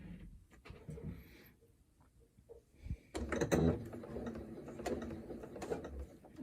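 A sewing machine runs briefly to put one or two stitches into the start of a crescent piece for a half circle quilt block, a soft mechanical whir and clatter that comes after a quieter stretch of handling noise.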